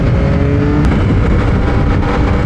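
A Yamaha MT-09 or XSR900 GP sport motorcycle accelerates hard nearby, its engine note rising loud and strained through the gears in a short burst, with no talk.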